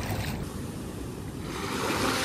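Ocean waves wash onto a beach in Zambales during extreme wind and rain, a continuous roaring surf mixed with gusty wind buffeting the microphone, fairly close and steady.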